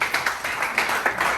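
Workshop attendees clap in a short, scattered burst, a handful of quick, light hand claps ringing out at uneven intervals over little more than a second.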